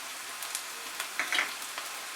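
Chopped onion with garlic frying in a pan over medium heat, a faint steady sizzle with a few soft crackles and light stirring clicks, no voices.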